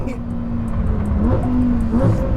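A Lamborghini Huracan STO prototype's engine revs and pulls through gears, its rising and falling engine note audible from inside the car underneath a narrator's voice.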